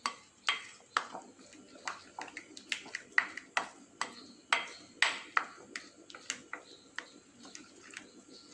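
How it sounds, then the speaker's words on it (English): A bowl of flour, saffron and salt being mixed for fried chicken batter gives a steady run of sharp clinks and taps, close and fairly crisp, roughly two or three strikes per second with brief pauses. "now we have to mix this well to make it a creamy consistency"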